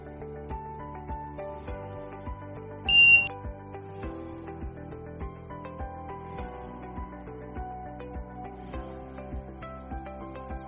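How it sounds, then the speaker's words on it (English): A single short, high electronic buzzer beep from a fingerprint and RFID vehicle access system cuts through steady background music, sharp and brief, then the music continues alone. "If wrong fingerprint and unauthorized license card, buzzer will be on."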